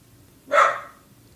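A single dog bark rings out at a moderate distance, one short loud burst standing alone against a quiet outdoor background.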